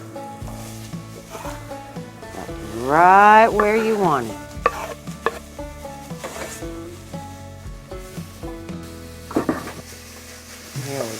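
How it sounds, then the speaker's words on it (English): Onions hitting a couple of tablespoons of hot olive oil in a pan give a brief loud sizzle, followed by quieter frying, stirring and clinking of utensils, while a voice talks over the cooking. "Hear that sizzle?"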